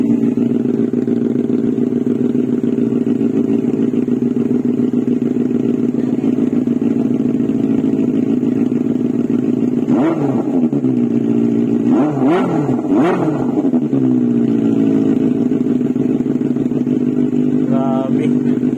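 A Benelli 600i four-cylinder motorcycle with dual mufflers idles loudly up close with a deep steady rumble, then blips its throttle in a few sharp revs before settling back to idle.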